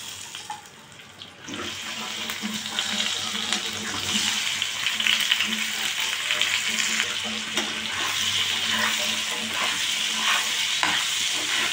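Potatoes with turmeric and salt frying in oil, a loud continuous sizzle close by, broken by scraping and stirring of a spatula against the pan.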